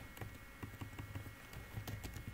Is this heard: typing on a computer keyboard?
yes